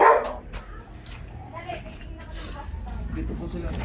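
A dog barks loudly right at the start, then fainter yips and whines follow beneath people talking and steady background noise.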